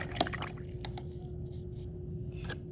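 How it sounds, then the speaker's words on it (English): A paintbrush swishes and drips as it is rinsed in a water cup during a watercolor color theory exercise, soft close splashing and light taps over a faint steady hum. "Then I'm gonna wash out my brush really, really well."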